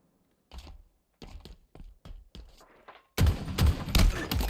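Gunfire in the video game Halo during a ranked match: several short separate bursts of shots, then a louder, denser stretch of rapid continuous firing.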